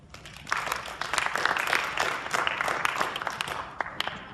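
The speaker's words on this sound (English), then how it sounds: "give a round of applause for him" A room full of people applauds a student presenter about to speak on the Trojan War, a dense, steady wash of many hands clapping close by for several seconds.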